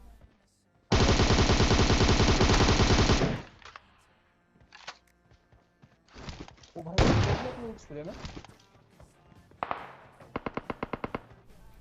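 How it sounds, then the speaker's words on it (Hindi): A PUBG Mobile match brings a long automatic spray of gunfire, followed by scattered single shots, thuds and bursts, while players talk over the action. "बस मैं गोली चलाता गया ढीटो की तरफ और 2 बंदे एक ही स्प्रे में निपट गए"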